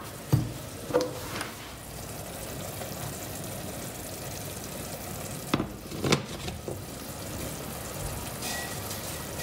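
Half-salted farm butter sizzles in a pan, a soft continuous fizz with a few sharper pops and clatters near the start and around the middle. The cooking is heard up close, with no talking.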